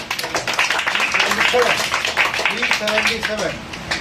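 A small group claps for a student's exam result, quick irregular hand claps running steadily throughout at close range, mixed with voices talking over them.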